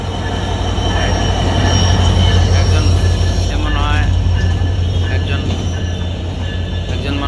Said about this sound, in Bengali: বেনাপোল এক্সপ্রেস এই মুহূর্তে রাজবাড়ী রেল স্টেশনে 1 নম্বর প্ল্যাটফর্ম থেকে ছেড়ে যাচ্ছে